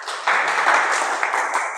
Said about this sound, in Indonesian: Tepuk tangan untuk Tama.